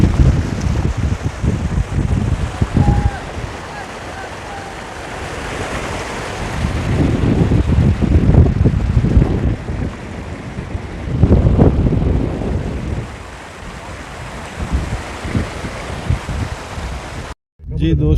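Water runs steadily along an outdoor canal in Oman, a broad rushing wash mixed with wind buffeting the microphone, continuous and fairly loud from start to finish.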